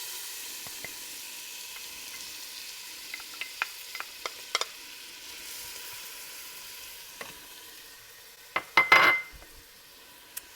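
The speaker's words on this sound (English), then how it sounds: "We're going to start sauteing some vegetables in here." Chopped onions sauteing in olive oil in a soup pot, a soft steady sizzle with scattered clinks and scrapes of a utensil stirring against the pot, growing louder toward the end.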